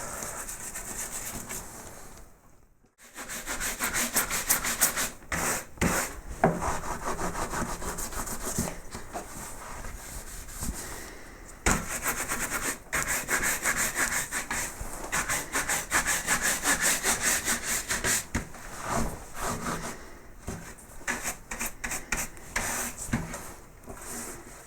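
Rapid, steady rubbing of wax into a carved Edwardian wooden mirror frame, close and loud, with back-and-forth strokes continuing for most of the time and a brief pause near the start.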